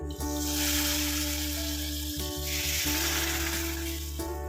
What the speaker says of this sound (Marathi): गॅस बंद करून ही चटकदार फोडणी उकळणाऱ्या डाळीवर ओतूया